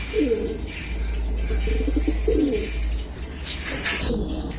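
A dilute blue check dun pigeon coos nearby in several low rolling phrases, with faint chirps and occasional wing flutters from other birds around it.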